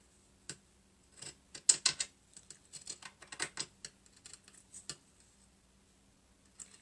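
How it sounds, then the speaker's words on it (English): Dry, irregular snips and clicks of scissors cutting felt close by, bunched in quick bursts with short pauses, fairly quiet with no voices. "I'm just going to take a pair of scissors and I'm going to cut this out."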